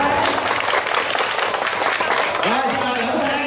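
A room full of people at a children's summer event prize-giving claps steadily and loudly, with voices mixed into the applause throughout.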